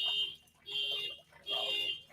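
An alarm sounds in a studio during a live talk show, beeping in three steady repeated bursts, each about half a second long, with short gaps between them, moderately faint.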